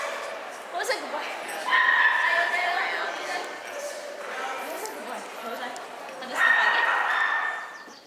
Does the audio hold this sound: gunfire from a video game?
no